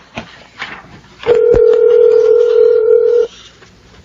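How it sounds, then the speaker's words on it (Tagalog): A cellphone ringing tone in a Filipino radio drama: one steady, loud electronic tone sounds for about two seconds, with muffled talk and movement before and after it. "nagre-ring lang yung cellphone niya pero ayaw naman sagutin"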